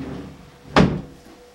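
A drawer bangs shut with a single short wooden thunk, close by and alone against quiet room tone.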